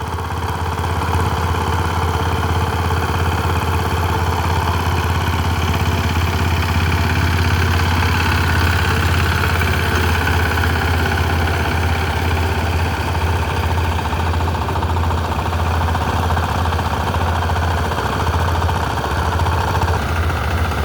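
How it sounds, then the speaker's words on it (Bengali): A power tiller engine runs steadily in a waterlogged field prepared for ploughing, a continuous loud low chugging drone with no breaks. "এটা হচ্ছে আমার পাওয়ার টিলার"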